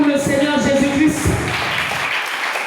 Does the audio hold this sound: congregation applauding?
yes